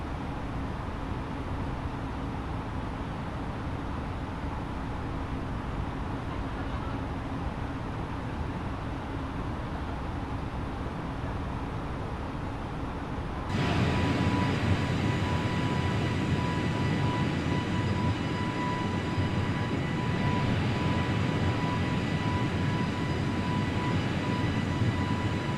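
In Microsoft Flight Simulator, an airliner climbs after takeoff from Yangon with gear and flaps up, its engine drone steady and continuous. Partway through, the sound jumps to a louder, brighter roar.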